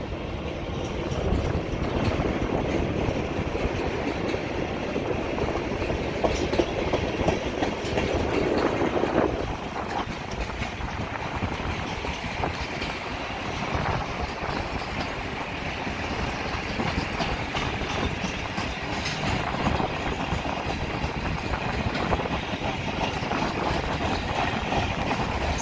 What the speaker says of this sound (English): Folks, this is a very heavy train.